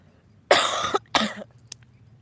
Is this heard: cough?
yes